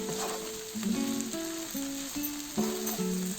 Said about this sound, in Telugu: ఒక 5 నిమిషాలు ఫ్రై చేసుకున్నాము